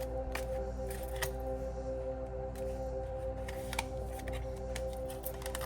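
Playing cards are shuffled for a card reading, giving a scatter of soft, quick riffling clicks over a steady low room hum, with no voice.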